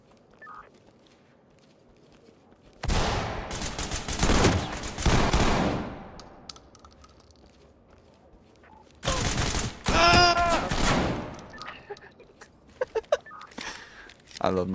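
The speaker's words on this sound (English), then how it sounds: "I love my shotgun." Shotgun blasts ring out during a video game, coming in two loud, dense bursts of repeated firing separated by quieter stretches, followed by a few scattered shots near the end.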